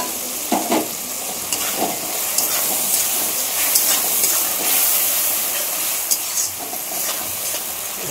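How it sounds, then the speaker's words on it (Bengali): Ginger and tomato paste masala for a mutton curry sautéing in a pan, a close, bright hissing sizzle with intermittent scrapes and clicks of stirring throughout. "মশলাটা একটু কষিয়ে দেব।"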